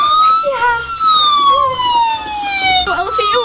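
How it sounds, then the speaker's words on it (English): An ambulance siren wails in a steady descending tone, fairly loud and close, with faint voices and background noise beneath it. "The ambulance is here now."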